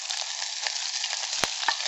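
Lard frying in a pan, a dense continuous sizzle with small crackles and pops, close and steady with no talk.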